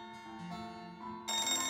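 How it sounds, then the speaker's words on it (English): An old-fashioned retro telephone rings in the Maitetsu video game, a clear electronic bell tone in repeating bursts that grows louder toward the end, heard alone without speech. "there's a very retro-sounding phone"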